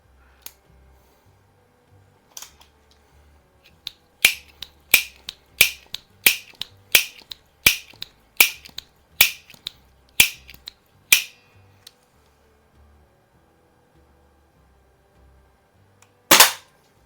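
An Apache Fireball .24 caliber multi-pump air pistol, tested after repair, fires a rapid string of about a dozen sharp, snapping shots, spaced roughly half a second apart, then a final louder crack after a pause.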